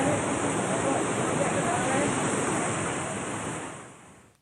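Floodwater from a swollen river at Khirvad, Raver, rushes over a road bridge after heavy rain, a loud steady broadband roar like surf that tapers slightly toward the end.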